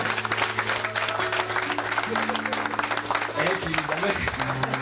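A church congregation applauds and cheers to acclaim the Lord in a steady, dense wash of clapping that runs throughout, with sustained music tones underneath and voices mixed in.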